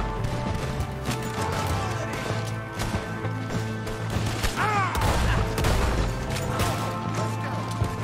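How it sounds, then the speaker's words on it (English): Shotgun fire in Red Dead Redemption II, several sharp blasts in a gunfight, with cracking shots and clattering impacts over a constant background of game sound. "It's the shotgun. Shotgun's always good."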